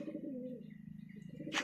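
Soft, steady cooing from a female green pigeon held close, a low rolling murmur running throughout, ending in a brief sharp rustle.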